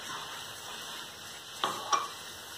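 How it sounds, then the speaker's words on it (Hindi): Semolina is stirred into boiling water in a pot, a soft, steady bubbling hiss broken by two sharp clinks of the spoon against the pan near the end. "अब आप इसे यूं कंटिन्यू चलाते हुए कुक करें।"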